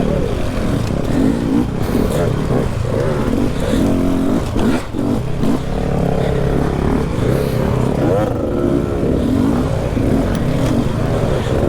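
An adventure motorcycle rides in heavy rain as a loud, close engine drone with shifting revs, plus clatter and scraping over rough ground.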